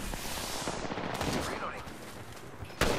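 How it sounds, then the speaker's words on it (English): Rapid automatic weapon fire in an Apex Legends firefight, bursts crackling fairly close amid in-game voice callouts, with a sharp louder shot near the end. "Taking fire. Taking fire, friend."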